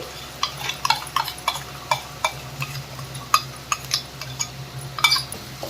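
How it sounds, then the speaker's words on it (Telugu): A spoon mixes masala paste in a pan for aloo kurma. It gives repeated clinks and scrapes against the metal at a steady stirring rhythm over a soft, constant frying hiss. "ఇప్పుడు మనం ఈ మసాలా పేస్ట్ని ఇందులో యాడ్ చేసుకోవాలి."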